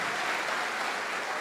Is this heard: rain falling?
no